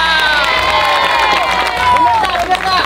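Children cheering and shouting inside a mosque, a loud, continuous burst of excited young voices with some scattered clapping, all close and crowded together.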